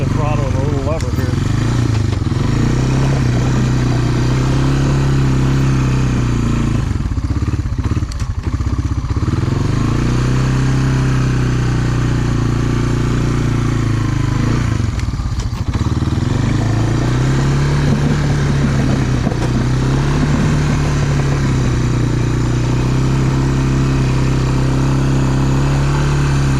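Honda ATV engine working hard while plowing snow on a driveway, a loud, steady motor drone with repeated rises and falls in revs, and a voice talking over it.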